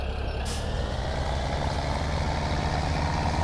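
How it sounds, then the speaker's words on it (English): Heavy tractor engine in Farming Simulator 2017 running steadily and loudly, a continuous broadband drone with a brief hiss near the start. "We'll tab on over to this tractor."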